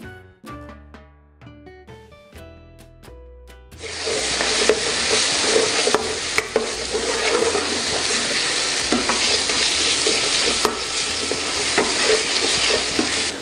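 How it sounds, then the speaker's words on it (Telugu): Ginger garlic paste hits hot oil for a traditional chicken fry and sizzles loudly, a dense steady frying hiss with scattered spatula scrapes and stirring clatter after a few seconds of quieter kitchen clinks. "ఇప్పుడు కొద్దిగా అల్లం వెల్లుల్లి పేస్ట్ వేసుకుందామండి."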